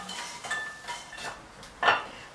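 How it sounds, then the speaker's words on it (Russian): Golden fried croutons are tipped from a pan into a bowl, giving a few light rattling clinks, with one louder knock near the end. "Готовые гренки отправляю в чашку."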